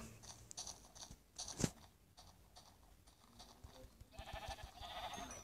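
Short synthetic sheep bleats from Minecraft repeat several times amid crunchy game sound effects, fairly quiet.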